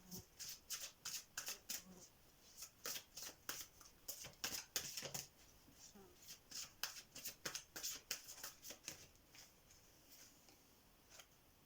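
Tarot cards are shuffled in quick, rhythmic riffling bursts, crisp and close, with brief pauses between runs and no talk.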